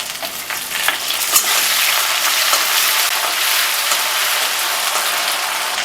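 Half a spoon of garlic added to onions that have been frying for several minutes in a pan, a loud steady close-up sizzle with a few stirring scrapes early on.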